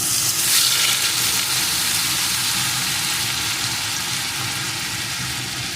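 Carrot paste with cardamom frying in a pan, giving a continuous close hiss and sizzle with soft stirring underneath, steady and fairly loud throughout with no talking.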